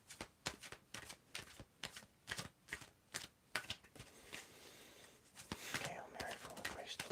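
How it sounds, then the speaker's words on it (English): Quick, crisp riffling bursts of tarot cards being shuffled, repeated in a steady rhythm, close to the microphone, ending in a longer softer shuffle. "So you can tell me when you want me to stop shuffling."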